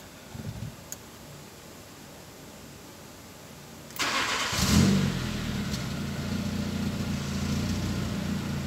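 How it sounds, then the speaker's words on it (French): A Renault Megane engine, a low-cost track project car under repair, cranks and catches at about four seconds, then settles into a steady, close idle with a low rumble. "Déjà pour le moment le ralenti est stable."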